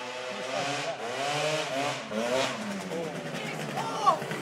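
A Gilera Runner 172 scooter engine with a ported exhaust revs up and down in rising and falling pitch sweeps, with people talking over it nearby.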